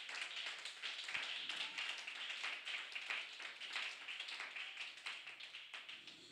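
A church congregation claps together in praise of Jesus Christ, a steady, dense patter of many hands, fairly quiet and continuous with no voices over it.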